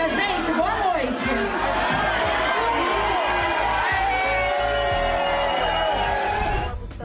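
A large live-show audience roars at a performer on stage with sustained shouting and jeering, one continuous wall of crowd noise over pulsing music that fades near the end.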